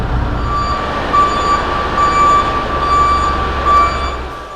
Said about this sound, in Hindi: सो फाइनली जी कैंपर वैन को बे में पार्क कर दिया